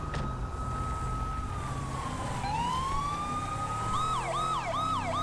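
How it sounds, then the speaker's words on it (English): A California Highway Patrol-style police siren in the GTA LSPDFR police game, starting as a long slow wail that rises and falls, then switching to a rapid repeating yelp, loud and continuous throughout. "So you can hear I changed the siren again."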